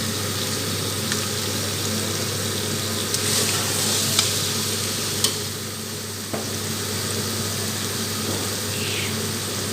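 Mutton achari gosht frying (bhuna) in a pan, giving a loud continuous sizzle with scraping stirs and a few sharp clinks of a utensil against the metal, and no talking.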